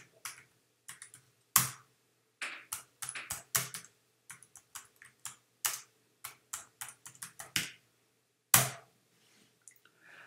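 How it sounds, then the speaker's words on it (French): Keys clack on a computer keyboard while a PHP artisan migrate command is typed and entered, with irregular bursts of sharp, close clicks and short pauses between them. "Et je tape Enter."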